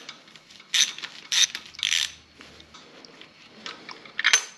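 A hand ratchet fitted with an 8mm socket backs out engine bolts, giving several close, crisp bursts of clicking separated by brief pauses, with softer clicks in between.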